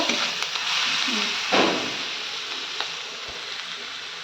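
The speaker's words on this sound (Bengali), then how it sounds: "পেঁয়াজটাকে হালকা একটুখানি নেড়ে নিলাম" Onions frying lightly in oil as they are stirred, a continuous close hiss of sizzling with a couple of brief scrapes of the spatula, no talking.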